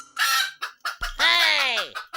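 A chicken clucking close by, with short choppy clucks and a longer, drawn-out descending call in the middle.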